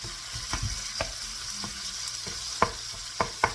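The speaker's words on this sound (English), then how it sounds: "I'm going back and stirring my meat here for a little bit." Ground meat for cabbage egg rolls sizzles in a pan as it is stirred, with a constant frying hiss punctuated by repeated knocks and scrapes of a spatula, several sharper clacks coming toward the end.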